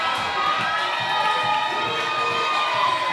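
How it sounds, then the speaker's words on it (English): A minor-league baseball crowd at a Johnson City ballpark cheering for the bat dog, a loud, sustained roar of voices with children shouting, dense and continuous throughout. "that cheering you hear is not because Johnson City has done anything incredible"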